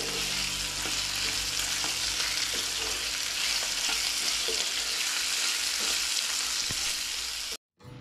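Boiled, cut potato pieces fry in a pan with a loud, steady sizzle while a utensil stirs and taps the pan at irregular intervals, close up and alone before a brief cut.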